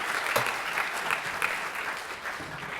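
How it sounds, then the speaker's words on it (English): A room full of people applauds for the ETC group with steady, sustained clapping throughout, fairly close and even. "let's give ETC a round of applause."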